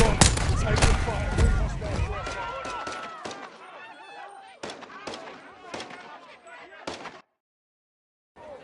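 Gunfire in Call of Duty Modern Warfare 3, with loud shots and chaotic noise over voices early on, then spaced sharp single shots echoing before a brief silence.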